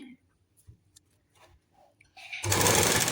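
A sewing machine starts up and runs steadily, loud and close, stitching a folded finishing strip onto a garment, after someone speaks softly amid small handling noises.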